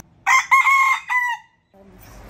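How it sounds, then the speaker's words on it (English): A rooster crows loudly and close in Oahu, Hawaii, where chickens roam freely; one long, strained cock-a-doodle-doo in two bursts, followed by a quiet pause and faint low clucking and ambient noise. "there's like roosters crowing at 3 a.m."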